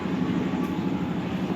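Kertanegara passenger train passing fast along track 3 near Tugu Yogyakarta, a steady low rumble and rolling hum of wheels and cars sustained for the brief moment, moderately loud and continuous.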